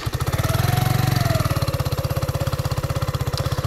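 A Mutt Hilts motorcycle with its stock exhaust idles nearby, a deep, even thumping pulse that rises briefly with a blip of the throttle and then settles back to a steady idle.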